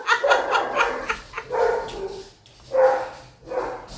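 Several dogs bark and yip in quick playful bursts, some near and some a bit farther off, with short gaps between the barks.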